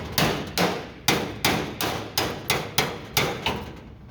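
A hammer drives a chisel into a spot weld on metal bodywork, making about nine sharp, evenly spaced ringing strikes close by, with no voices.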